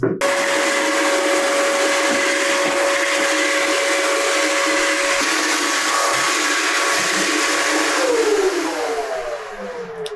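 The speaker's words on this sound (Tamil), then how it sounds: "ப்ளோயர் வச்சு சுத்தமாக மாவு இல்லாமல் க்ளீன் பண்ணிடுவாங்க." An air blower cleans flour off handmade Madurai appalam in a small production setting, giving a loud, steady motor whine and rushing air for about eight seconds before the pitch drops as it winds down.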